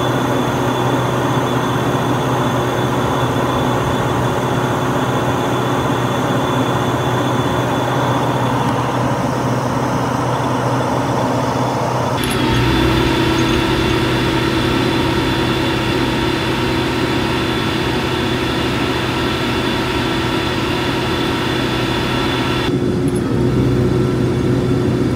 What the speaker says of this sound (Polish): Rozpocznijmy test ciągnika Arbos 4090 2×4 na dolnym zaczepie